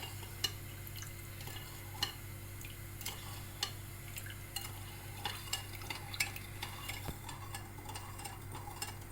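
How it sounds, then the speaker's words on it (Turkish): Sugar stirred into semolina halva in a pan, a spoon scraping and clicking against the pan in irregular soft taps over a faint steady sizzle and low hum, close and quiet. "Şekerimizi de şöyle karıştıralım"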